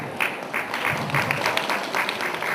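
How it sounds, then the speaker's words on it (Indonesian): A crowd applauds at a financial planning expo in Indonesia, a steady wash of clapping hands sustained at moderate level throughout. "Tepuk tangan dulu dong."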